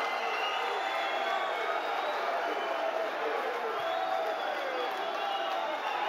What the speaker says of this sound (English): the crowd go wild here for Ismael Lazaar